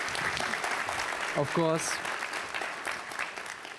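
Conference audience applause, a dense wash of clapping that swells and fades over a few seconds while someone speaks briefly over it.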